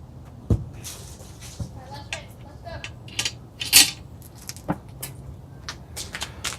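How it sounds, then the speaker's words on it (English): A cast iron Dutch oven being set onto charcoal, several light metallic clanks and knocks scattered over a few seconds amid faint clatter, close and fairly quiet, with no talking. "I'm going to stick the Dutch oven on there."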